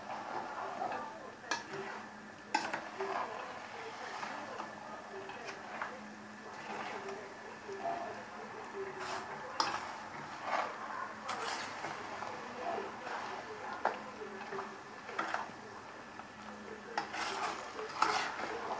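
A spoon stirs white currant jam in a pot, giving soft intermittent scraping and rubbing strokes with occasional light clinks against the metal, fairly quiet and close.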